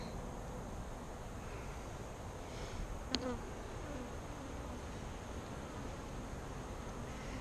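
Saskatraz honey bees two weeks after package install buzz around an open hive, a steady dense hum with one nearer bee briefly passing close, over light wind noise at the microphone, with no talking.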